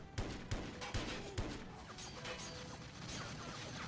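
Gunfire in 007: Everything or Nothing: a few sharp, evenly spaced shots followed by a denser rattle of weapon fire and impacts, fairly faint and distant, no talk.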